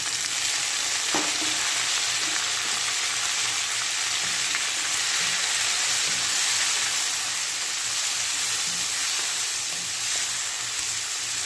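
Tomatoes fry with sardines in a pan for a Filipino ginisang sardinas dish, producing a loud, continuous oily sizzle close by. Faint stirring knocks occasionally break through the crackle.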